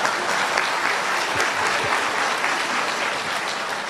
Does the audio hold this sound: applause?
yes